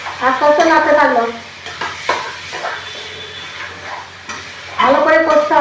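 Marinated chicken pieces stirred and sautéed in a wok, giving a steady sizzle with scraping stir strokes, while someone talks over much of it.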